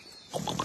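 A cartoon space pig lets out a short, close snorting oink, a quick grunted burst following a faint quiet lead-in.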